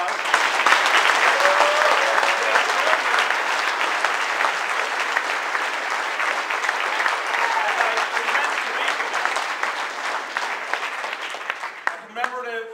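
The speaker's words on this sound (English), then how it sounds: "Please give them a round of applause." Sustained applause from a large audience at a Democracy Convention, honoring keynote speakers; dense, steady clapping fills the whole stretch at an even level before thinning out near the end.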